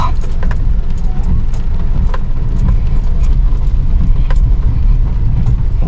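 A car rolls along a rough, muddy dirt road through a construction area near Silvassa, heard from inside as a loud, steady low rumble with scattered rattles and clicks from the bumpy surface.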